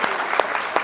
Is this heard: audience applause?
yes